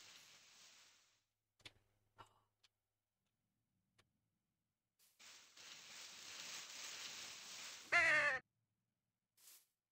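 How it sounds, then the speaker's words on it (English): A crow caws once, loud and harsh, near the end of a mostly quiet stretch, following a steady hissing noise and scattered faint ticks and clicks at an outdoor Halloween festival. "The crow right there."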